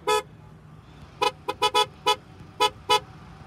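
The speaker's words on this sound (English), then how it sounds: "give me a honk" A 2022 Hyundai Santa Cruz truck's horn sounds in short toots: one honk, a pause, then a quick uneven burst of about seven more, loud and close.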